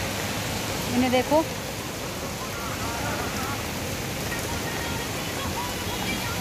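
Heavy rain pours down steadily while people wait under a shelter, a dense continuous hiss from start to end, with a brief spoken remark near the start.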